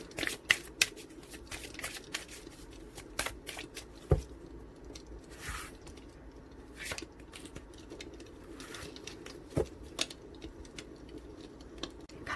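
Tarot cards are shuffled and handled up close, with soft riffling and scattered sharp taps and flicks, fairly quiet and without talk.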